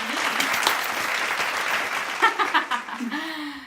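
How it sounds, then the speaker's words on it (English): Applause from a small audience, a dense patter of clapping lasting a few seconds, then fading into scattered claps and a voice at the end. "Round of applause for me."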